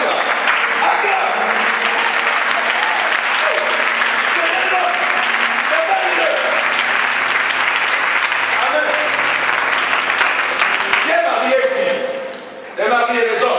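A church congregation applauds loudly and continuously, a dense wash of clapping sustained for about twelve seconds before tapering off, with a voice speaking over it.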